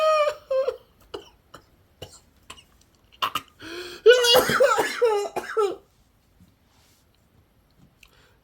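A person's coughs come in a short irregular burst of sharp bursts mixed with voice-like sounds, close and moderately loud, followed by near silence.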